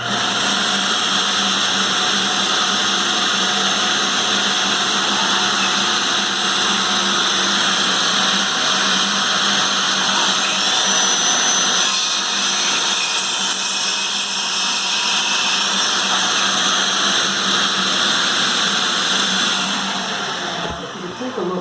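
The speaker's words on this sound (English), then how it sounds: "I'm going to turn on the shop vac" A shop vacuum runs continuously with a loud, steady whine and rush of air, holding constant before dropping off at the very end.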